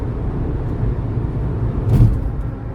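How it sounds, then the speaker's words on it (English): Steady low road rumble fills the cabin of a car driving along the highway, a continuous close drone that swells briefly partway through, with no talking. "We're driving to Kentucky today, so you might hear road noise."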